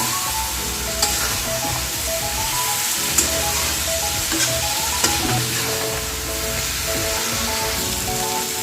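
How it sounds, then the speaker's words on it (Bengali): Drumstick, potato and radish sizzle steadily in hot oil, with a spatula scraping and clinking against the pan every couple of seconds; close and continuous, no voices. "তো আমি এখন এই সবজিটা ভালো করে কষে নেব"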